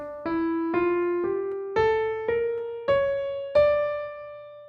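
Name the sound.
harmonic minor scale played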